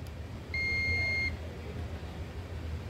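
A single steady electronic beep lasting under a second rises over low background hum on a repair bench while a power supply's capacitor charges, then stops.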